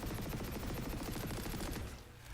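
Scoped weapon firing in Planetside 2, a loud, dense stream of rapid gunshots in steady rhythm that cuts off near the end, leaving quieter game ambience.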